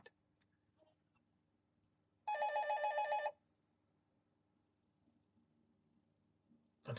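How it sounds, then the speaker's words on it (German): A telephone rings in a quiet room during a German Riesling wine tasting, giving one brisk burst of rapid bell trills lasting about a second, clear and fairly close, with no talk over it. "Nee, ans Telefon gehe ich jetzt nicht."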